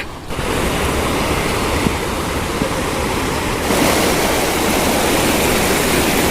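A river rushes and roars continuously and loudly up close, a dense, steady wash of flow with no voices.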